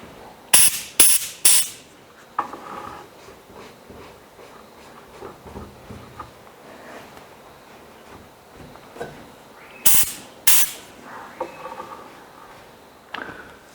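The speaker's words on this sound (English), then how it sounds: "now I'm just going to tone down that sharp red color by spraying over it with a little bit of my top coat" Top coat sprayed from an aerosol can over red paint in short hissing bursts, three quick ones, then later two more, with quiet handling and shuffling sounds between.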